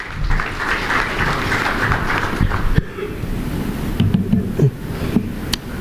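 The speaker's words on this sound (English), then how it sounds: "With a huge round of applause, ladies and gentlemen, let's welcome Mr." Audience applause welcoming a speaker, Mr. Mahesh Ketan, onto the stage at a business summit and awards event, a dense, steady clapping wash that runs for several seconds and then thins into scattered claps with some low murmuring.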